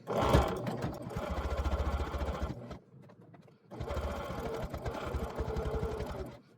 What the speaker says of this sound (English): I'm going to stitch right along that edge there.